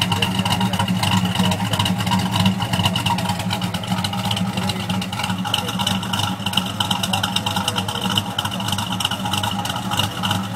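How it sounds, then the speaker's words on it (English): A 1967 Chevelle SS 396 V8 with a Turbo 400 transmission idles steadily, a rough, loud low rumble with a constant loping throb that holds without revving for several seconds, recorded close. "That's the sound of the 67 SS."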